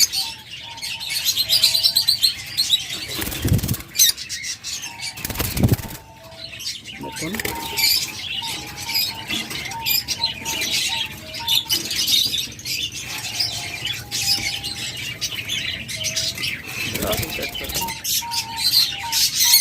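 A pair of olive opaline pet birds, likely small parakeets, chirp in quick repeated bursts at close range, with sharp wing flaps and rustles breaking in, while a voice talks intermittently.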